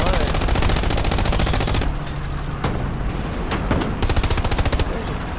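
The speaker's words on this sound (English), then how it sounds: "AT gun from behind." Heavy gunfire in a World War II-style warfare game battle at Kursk, including an anti-tank gun firing from behind: dense, continuous rapid shots and booms that stay loud throughout with a thick low rumble and no pauses.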